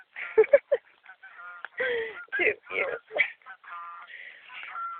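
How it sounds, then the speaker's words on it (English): Geese out in the countryside give several quick, nasal honks at a moderate distance, some overlapping a man's brief speech. "Some geese."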